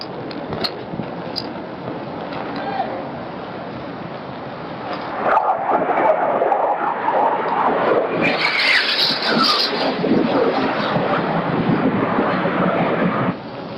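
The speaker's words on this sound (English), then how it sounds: "Second may come across the flight deck, coming in low, bridge wing level." A low-flying aircraft crosses a ship's flight deck at bridge-wing level, a steady broad roar that swells and brightens midway, heard alone against wind.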